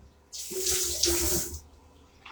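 Chilies are rinsed under a running kitchen tap, a close splashing rush of water that lasts just over a second and then fades out.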